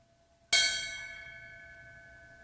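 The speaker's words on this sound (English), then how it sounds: "the ringing of the ceremonial bell to honor the lives lost" A single ceremonial bell struck once at a 9/11 memorial ceremony at the Capitol, a clear sharp strike followed by a long, slowly fading ring in an otherwise quiet setting.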